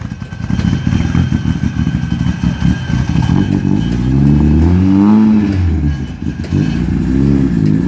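Rally car engine at a team service area during a race event, loud and close, a steady rough idle that rises into a revving roar, with no talking.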